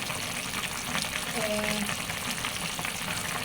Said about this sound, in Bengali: নাড়াচাড়া করে দিচ্ছি মিষ্টি কুমড়া আর পুঁশাক